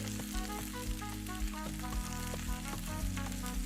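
Vegetables with carrot and okra frying in a pan for Kenyan matoke, a steady sizzle running throughout beneath a tonal, music-like layer, with a soft voice also present.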